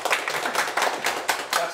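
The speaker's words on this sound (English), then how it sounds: "Round of applause because" Short bursts of clapping from a small audience at an evening poetry event, rising in quick waves and fading between them, close and fairly loud.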